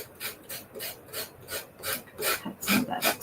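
Rhythmic rasping strokes of sanding along the curved edge of a mini wooden cutting board, about a dozen even back-and-forth passes, close and steady with no talking.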